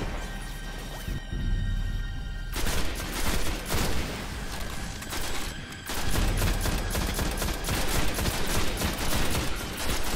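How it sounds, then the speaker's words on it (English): Dense, rapid enemy gunfire in the co-op shooter Destiny crackles almost nonstop for ten seconds, loud and close, pausing briefly twice before resuming in heavy volleys. "Oh, somebody's taking pot shots."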